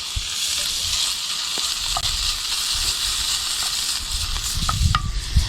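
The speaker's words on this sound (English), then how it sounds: "we're going to throw those right into the skillet and let that bacon fry up" Chopped bacon frying in a cast iron skillet on a grill, a steady close sizzle with crackling pops and occasional light clinks throughout, no talking.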